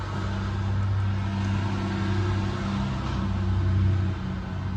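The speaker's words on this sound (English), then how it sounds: "Traffic." Road traffic passing outside, heard as a steady, fairly quiet low rumble and hum that swells slightly toward the end, with no talking over it.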